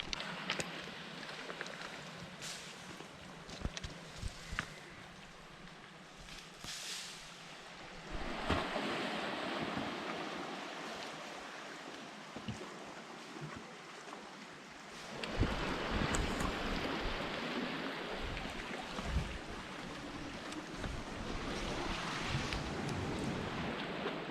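Waves wash onto a pebble beach on the Goa coast, with rising rushes of surf and rattling swells, the loudest surge arriving midway, under gusty wind on the microphone.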